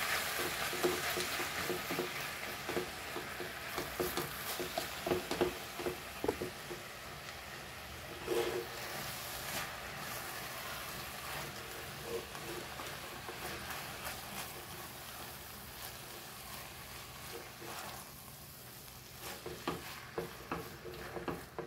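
Goan chicken keema, a dry chicken mince, frying in a pan while being stirred: a steady close sizzle with scraping stirs and occasional louder spatters, no talk.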